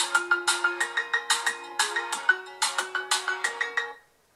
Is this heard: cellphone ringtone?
yes